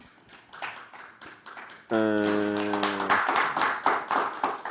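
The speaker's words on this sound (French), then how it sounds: "On peut applaudir, hein?" Applause from an audience at a Studio 210 awards ceremony broadcast on Congolese national television, a steady wash of many clapping hands, with a held musical chord or fanfare sounding briefly through the middle.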